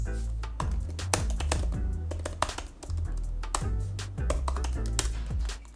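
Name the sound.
typing on MacBook Air M1 Magic Keyboard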